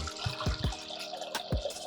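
Water poured into a pot of lentils with plenty of garlic for cooking gives a short burst of gurgling splashes and drips, close and fairly quiet, over a few seconds.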